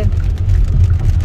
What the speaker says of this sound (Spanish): Lloviendo en Bogotá.